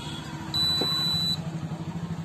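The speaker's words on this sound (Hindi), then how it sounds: "देखिए बीप आ गया और इंडिकेटर भी आ रहा है।" A Philips induction cooktop under repair for a short in its power supply gives a single sustained electronic beep, close and clear over a low hum.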